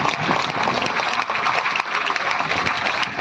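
A large outdoor crowd at a rally claps loudly and continuously, a thick, steady wash of applause with no speech on top.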